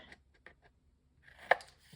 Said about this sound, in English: I'm going to use my scissors and I'm going to notch